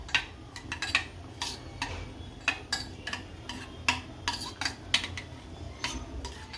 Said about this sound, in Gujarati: અને આ ધાણા જીરું અને હળદર થોડીક નાખશું થોડીક નાખશું બીજ રાખશું અને હલાઈ નાખશું